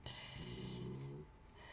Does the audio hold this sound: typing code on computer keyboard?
no